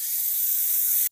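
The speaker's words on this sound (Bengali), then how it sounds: "এবার পুরো দই দিয়ে দিলাম।" Yogurt poured into hot oil in a home kitchen sets off a loud, close, hissing sizzle that holds steady for about a second and then cuts off abruptly.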